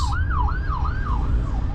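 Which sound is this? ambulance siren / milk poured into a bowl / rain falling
ambulance siren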